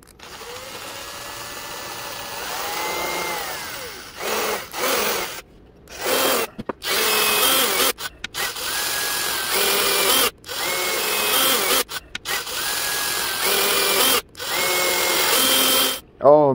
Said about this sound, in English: I've got a stepped up drill bit set here.